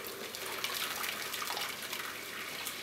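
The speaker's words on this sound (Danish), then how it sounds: "Jeg tager heller det her varme vand ned i sirup" Hot water poured into syrup in a home kitchen, a continuous splashing, gurgling stream that stays close and steady for a few seconds with no one speaking.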